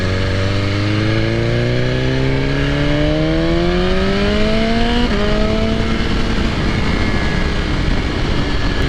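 A 2020 BMW S1000RR motorcycle engine and exhaust rise steadily in pitch as the bike accelerates hard, with a brief dip at a gear change before pulling on, loud and close over wind noise.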